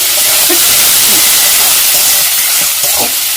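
Water poured into a hot pan of fried spices for Bengali-style kochu shak, giving a loud, steady steaming sizzle and hiss that fills the whole stretch, with faint stirring clatter near the end.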